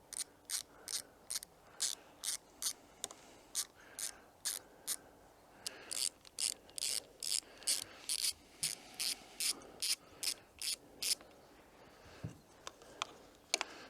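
Ratchet tightening a long screw on the carb rack of a 1999 Kawasaki ZRX1100 motorcycle: rapid, crisp clicking strokes in quick bursts, close and fairly quiet, with short pauses between runs.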